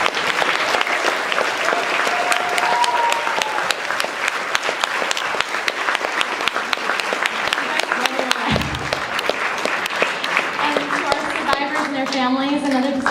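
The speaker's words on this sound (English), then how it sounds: "Let's just give another big round of applause to our students." An audience at a theater evening gives a long round of applause, dense steady clapping close by, with a few voices and cheers rising over it near the end.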